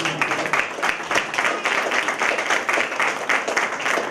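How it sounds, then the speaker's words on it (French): Loud, close audience applause at an inauguration ceremony, brisk rhythmic clapping from a crowd that keeps a lively, even pace throughout. "Je vous demande d'applaudir le Seigneur."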